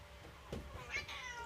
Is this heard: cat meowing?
yes